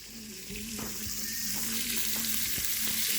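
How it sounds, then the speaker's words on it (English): Baked beans and chili sizzle in pans set over an open cooking fire. The frying hiss is steady and close, with occasional soft clinks and a low hum underneath. "we get the pans and everything on top the fire with the baked beans and the chili"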